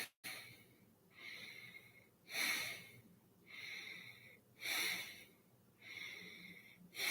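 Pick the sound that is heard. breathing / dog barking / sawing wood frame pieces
breathing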